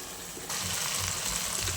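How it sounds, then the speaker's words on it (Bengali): Spice paste frying in a pan sizzles, and the hiss grows louder as water is added partway through. "একটু জল দিয়ে দিচ্ছি জল দিয়ে দিয়ে কষালে মশলাটা বেশি টেস্ট হয়"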